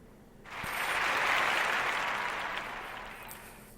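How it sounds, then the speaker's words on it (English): Audience applause at a podcast episode's close swells in quickly, holds as a dense, steady wash of clapping, then slowly tapers off, with no talking over it. "Give yourselves a round of applause one more time."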